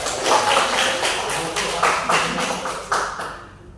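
A school class claps together in a short rhythmic pattern of sharp, loud claps in groups, close by in a classroom.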